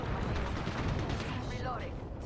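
Gunfire and crackling combat noise in the shooter Apex Legends, dense and muffled under steady voice chat, with a brief whooshing sweep near the end.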